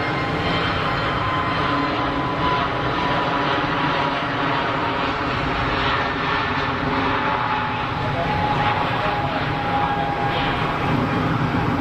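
An easyJet Airbus A320neo airliner takes off, its engines a loud, steady broadband roar that holds close and constant throughout with no voices over it.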